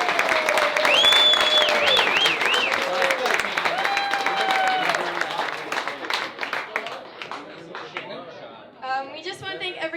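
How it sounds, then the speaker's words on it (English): A crowd at a backyard hospice fundraiser memorial gathering breaks into loud, sustained clapping mixed with whoops and cheering voices. It thins into scattered claps and chatter near the end. "How about a big round of applause?"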